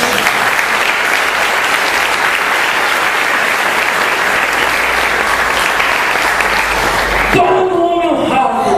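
A church congregation claps loudly and steadily in honour of the Lord, a dense continuous wash of applause that cuts off abruptly near the end, leaving a brief quieter tail with a faint tone.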